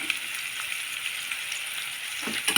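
Onions frying in hot oil with curry leaves and green chillies give a close, steady sizzle, with a few soft stirring scrapes near the end.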